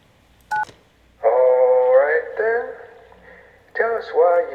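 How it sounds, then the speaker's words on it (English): Telephone keypad tones from the video game Kentucky Route Zero: a brief two-tone beep followed by longer stacked dual tones, clear and close, with a pause before a final pair of tones. "Now is the time to dial an extension."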